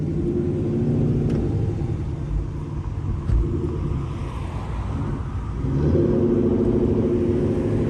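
Swapped second-generation Charger driving through city streets, its engine a steady low rumble heard from inside the cabin, swelling slightly as it accelerates near the end.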